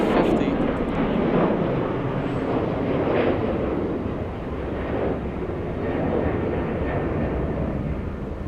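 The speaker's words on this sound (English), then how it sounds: "let's go for the A350" An Airbus A350 airliner at Atlanta Hartsfield-Jackson airport, a broad, steady engine roar that swells and eases slightly as it holds loud and continuous throughout, heard from a distance with no voices.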